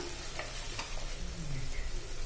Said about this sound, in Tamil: நசுக்கி வச்சிருக்க பூண்டை சேர்த்து எல்லாத்தையும் சேர்த்து ஒரு 2ல இருந்து ஒரு 3 நிமிஷம் அளவுக்கு வதக்கிக்கலாம்.